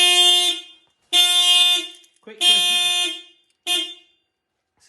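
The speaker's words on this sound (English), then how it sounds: "If I keep moving and make it really disturb it as though I was climbing in, that will go red and it'll set the alarm off." A car alarm set off by disturbing the vehicle sounds its horn in four loud, steady bursts with short gaps between them, and a voice speaks briefly alongside.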